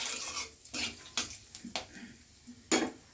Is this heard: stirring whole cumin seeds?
yes